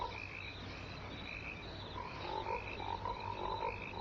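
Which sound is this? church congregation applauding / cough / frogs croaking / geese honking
frogs croaking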